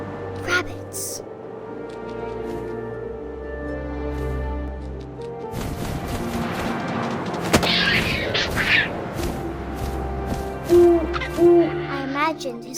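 Owl in What Remains of Edith Finch gives a couple of short, soft hoots late on, over a bed of wind and ambient game sounds with a dull boom partway through.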